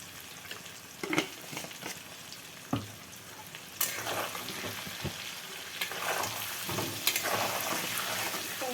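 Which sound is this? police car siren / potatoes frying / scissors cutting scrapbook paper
potatoes frying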